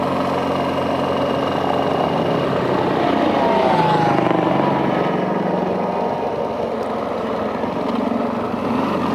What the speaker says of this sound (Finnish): Helikopteri siinä lensi matala lento.